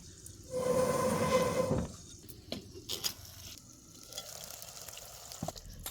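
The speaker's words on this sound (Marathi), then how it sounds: "हे बघा मिरच्या कशा शिजायला लागल्या अजून एक पाच मिनटं शिजायला पाहिजेत झाकून ठेवूया" Green chillies cooking in a spiced curd curry in a pan, a short spell of loud sizzling and bubbling up close, then quieter clinks and soft crackles.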